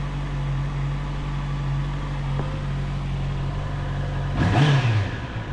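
Neighbour's motorcycle with a stock exhaust pipe, idling with a low steady rumble, then a short, loud rev bursting through the exhaust near the end.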